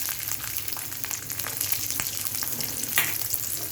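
Garlic cloves fry in about two spoons of oil in a kadai, giving a steady close crackling sizzle with light scattered pops and faint stirring, no voices.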